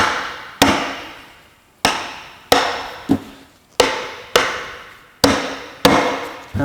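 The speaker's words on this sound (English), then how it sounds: "So I'm going to use a small hammer to just crack it loose." A small hammer strikes a sealed NV4500 transmission cover about nine times at a steady pace, sharp, loud, close metallic knocks that ring briefly and fade between blows.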